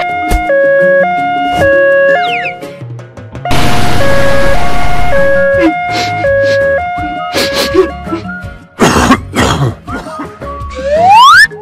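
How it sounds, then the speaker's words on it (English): An ambulance siren wails in an alternating two-tone pattern, loud and close, mixed with music and cartoon sound effects, with bursts of noise and clatter through the middle. "Ambulance."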